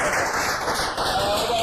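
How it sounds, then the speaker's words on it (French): A TV studio audience applauds a guest, a steady, dense wash of clapping that stays loud and close throughout the short moment. "Merci Fabrice Wafofoto, on va vous applaudir également."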